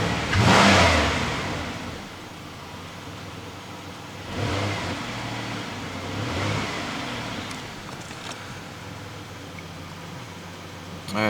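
A 2008 Pontiac Grand Prix engine runs after mass air flow sensor and throttle body cleaning, idling with a broad steady hum and a couple of swells like light revving, heard up close without talking.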